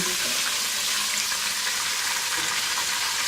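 Bay leaf, chili and cloves frying in oil as tempering for chana dal makhni: a steady, dense close-up sizzle with fine crackling, constant throughout and heard alone without any voices.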